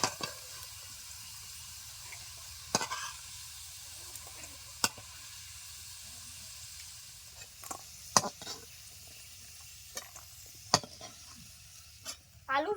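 Potatoes fry in oil in a pan for a village-style cabbage dish, giving a steady soft hiss broken by scattered clinks and scrapes as the pieces are lifted out to drain.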